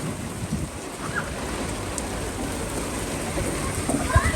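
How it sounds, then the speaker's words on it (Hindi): Steady heavy rain falls in a continuous hiss of drops on surfaces, fairly soft and even throughout with no voices. "बारिश बहुत तेज है"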